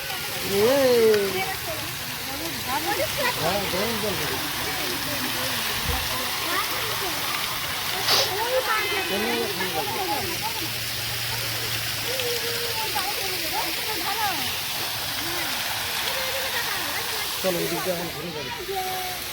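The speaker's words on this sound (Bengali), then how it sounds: "হ্যাঁ গরম জল বেরোচ্ছে।" Hot water gushes out in Srijani Park, Balurghat, a steady broad rushing wash like a fountain or waterfall, with voices talking over it.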